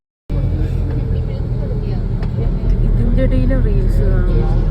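Road vehicle under way, a constant close engine and road drone that starts suddenly and runs without a break, with people talking over it.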